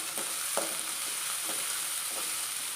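Chopped onions hitting hot oil for sago upma with curry leaves and green chilies, a steady sizzle with a few soft stirring scrapes.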